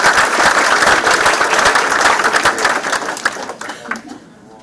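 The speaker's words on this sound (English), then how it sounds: "let's clap for them." Audience applause fills a school board meeting room, dense clapping from many people that stays loud and steady before thinning and fading out near the end.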